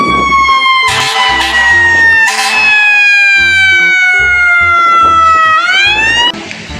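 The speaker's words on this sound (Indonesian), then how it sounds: "Dan ini ada mobil ambulan." A toy ambulance siren wails loud and close, its electronic tone sliding steadily downward with faint clicks and handling noise underneath.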